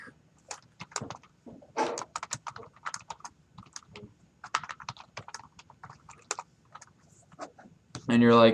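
Computer keyboard typing during a coding lesson, a run of quick, close, irregular key clicks and taps spread over several seconds, ending with a louder burst of sound.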